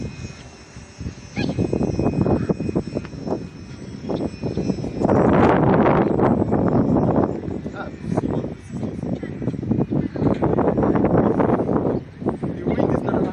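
Loud, continuous wind buffeting a microphone outdoors while a small RC airplane flies, its high engine whine streaking through the gusts, with a voice talking over much of it.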